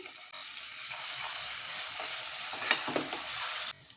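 Onion sizzles steadily in hot oil with green chilli, ginger, garlic and coriander paste while a spoon stirs and scrapes through it, a continuous close frying hiss with soft clatter for most of the stretch before cutting off.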